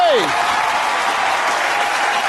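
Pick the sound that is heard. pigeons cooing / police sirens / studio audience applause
studio audience applause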